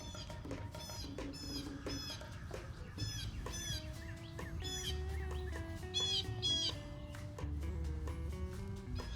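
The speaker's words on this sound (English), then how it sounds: "She hears that bird." Outdoors, a bird gives repeated short chirping calls, some clucking like a chicken, fairly clear over a soft background hum; brief bursts come in irregular clusters, with no talk.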